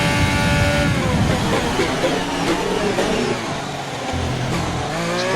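A Ferrari racing around a track in a video game, its engine droning steadily at high revs with rising and falling pitch sweeps and a touch of tire squeal, loud and continuous throughout.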